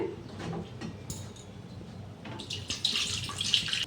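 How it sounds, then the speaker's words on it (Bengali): Water poured into a steamed egg dish, a soft trickle and splash that swells louder toward the end, close by and quiet, with no talking. "এখন আমি একটু জল দিয়ে দেব"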